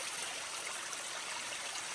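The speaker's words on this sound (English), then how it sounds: "all these tributaries are flowing nicely" A tributary stream flows in small cascades after rain along a hiking trail, a steady, close, full rushing and splashing of water with no other sounds.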